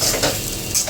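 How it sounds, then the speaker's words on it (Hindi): Urad dal roasting in a pan for spicy dal kachori, with a steady dry rustle and sizzle plus scraping, stirring strokes against the metal, close and alone with no talk. "तो यहाँ पर दाल भून रहे हैं"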